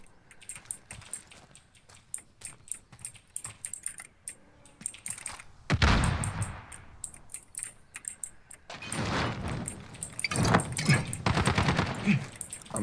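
Gunfire from Call of Duty Modern Warfare 2019 comes in rapid automatic bursts and heavy volleys over constant clacking of a computer keyboard, loud and close throughout the middle and later stretches.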